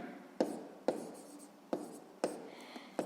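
A pen writing out a sixth-grade math solution on paper, a series of about six sharp tapping strokes at a steady pace, close and fairly quiet with faint scratching between them.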